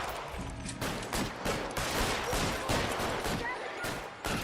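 Rapid bursts of gunfire in the LA Noire video game, a steady run of loud repeated shots across the whole stretch, with a voice talking over the shooting.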